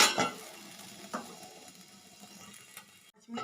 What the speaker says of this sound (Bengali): এবার নেড়ে আরও কিছুক্ষণের জন্য ঢাকা দিয়ে দেব।